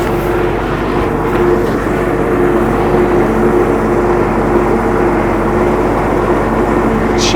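A tractor engine runs near a group of cows outdoors, a loud, steady, continuous low rumble and drone with no clear breaks.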